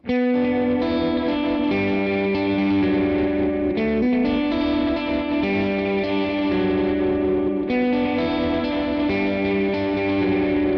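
Electric guitar through a Memory Man analog delay pedal, repeating notes in a steady, sustained melodic line, with echoes trailing each picked phrase.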